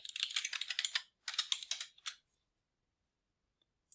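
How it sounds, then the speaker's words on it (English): Quick bursts of typing on a computer keyboard, rapid close key clicks in two runs separated by a short pause, then quiet. "You can type the data in"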